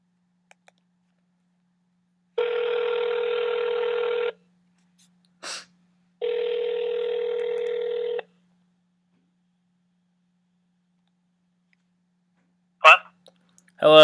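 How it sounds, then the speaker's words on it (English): A telephone call goes out and two long ringback tones sound, each lasting about two seconds with a pause between them, framed by short clicks and quiet gaps. "So let's get him on the phone here."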